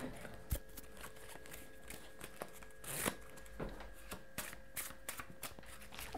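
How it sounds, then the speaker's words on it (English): A magician gives a deck of playing cards a fancy shuffle, producing quiet, irregular riffling clicks and soft snaps that come in bursts over a few seconds, close to the listener. "I have some cards. Yes. All different. I'll give them a shuffle."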